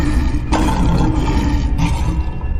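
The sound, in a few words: cartoon river monster roaring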